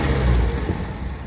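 A Toyota KE20 engine, carburetor air filter off, rises briefly as the accelerator is pressed, a close loud rumble that swells and then eases back within about a second.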